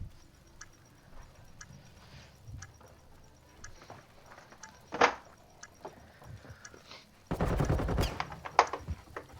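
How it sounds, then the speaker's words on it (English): Gunfire trading back and forth in an esports shooter match: sparse, faint distant pot shots with scattered ticks, one sharper crack midway, then a louder, denser burst of fire near the end. "Little pot shots going back and forth."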